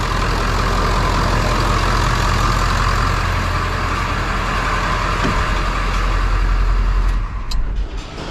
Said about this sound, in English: I'm gonna go in the truck and turn off the engine.